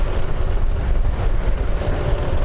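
Wind gusts while sailing a boat, a dense continuous low roar of buffeting air mixed with water rush, loud and steady throughout with no voices.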